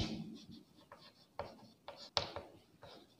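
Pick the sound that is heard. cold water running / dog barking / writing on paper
writing on paper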